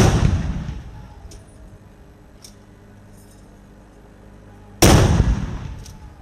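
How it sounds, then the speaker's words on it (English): A Zambia Army gun salute for a statesman in Lusaka fires two loud, sharp rounds several seconds apart, each followed by a long echoing decay outdoors, with faint distant sounds in between. "The statesman was accorded a gun salute by the Zambia Army."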